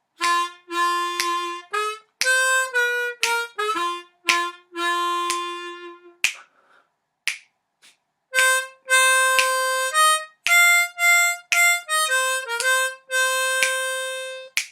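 A bright reedy harmonica melody, played in F on a Bb harmonica, short and held notes phrase by phrase with brief pauses between, loud and close with no voices.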